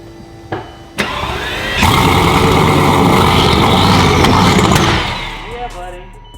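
A flood-damaged Bugatti Veyron's engine cranks, catches and revs to a loud steady roar close by, then cuts off, with people talking around it.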